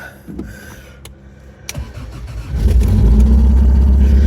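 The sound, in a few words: car engine starting and running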